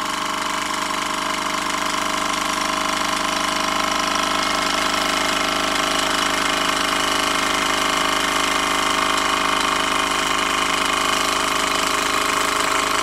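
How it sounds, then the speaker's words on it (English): A steady 100-year-old engine running continuously at a constant pace, loud and close, with a dense mechanical hum and no voices. "It runs quite well for a 100-year-old engine."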